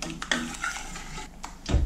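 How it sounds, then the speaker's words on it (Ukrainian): A spoon scrapes and clinks against a pot as chicken dumplings are stirred with the back of the spoon, a few short close strokes with soft watery sloshing. "Вкинула деяку кількість і перемішую тильною стороною ложки."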